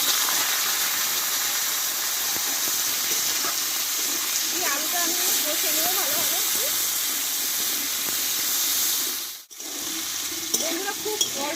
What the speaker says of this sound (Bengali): এবার কেটে ধুয়ে রাখা আলুগুলোকে দিয়ে দেবো